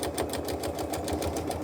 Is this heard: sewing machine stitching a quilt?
yes